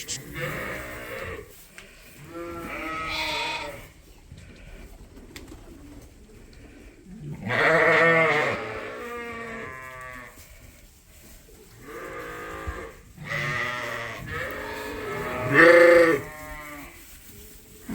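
A flock of ewes waiting to lamb, moved into a new barn on a sheep farm in winter, bleating in repeated overlapping calls, some loud and near, others softer, with a low murmur of activity between them.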